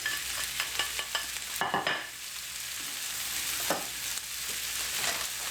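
Onions frying in a pan beside meatballs sizzle in a steady close hiss, broken by several sharp scraping stirs of a utensil against the pan, including a louder burst partway through and another near the end.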